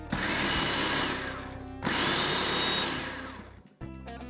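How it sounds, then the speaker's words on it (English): A food processor whirring loudly as it mixes pizza dough ingredients, two long motor runs with a brief stop between, then a short final pulse. "your food processor is going to take care of the kneading part for you"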